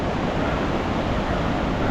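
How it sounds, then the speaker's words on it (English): Broadband rushing water of a river at Malham Cove in the Yorkshire Dales, a steady, continuous roar filling the whole clip with no talk over it. "There's the river going."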